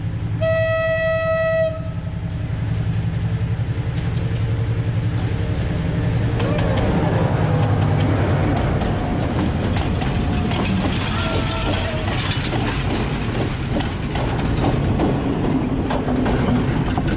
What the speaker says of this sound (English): we're thinking it's a train